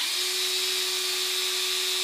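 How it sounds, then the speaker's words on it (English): Power drill spinning a regular metal drill bit into a plastic garbage can, a steady, high whining buzz held at constant pitch, close and loud throughout. "I'm going to attempt to drill a hole"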